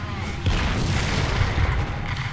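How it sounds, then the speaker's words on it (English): Artillery barrage in the tank game War Thunder: continuous low, rumbling booms roll on steadily for a couple of seconds, with a heavier thump near the middle and faint voice activity underneath. "they're prepping for an artillery barrage again"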